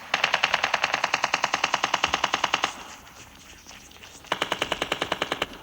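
Rapid automatic gunfire in a third-person battle royale video game, a long burst of evenly spaced shots, a short pause, then a second shorter burst, loud and close with no talking.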